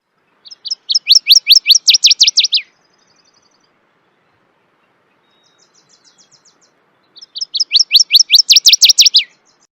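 Spring warbler singing its bouncy ball song, two bright, fast rising series of high chirps, each about two seconds, separated by a pause with a few soft notes, close and clear over silence.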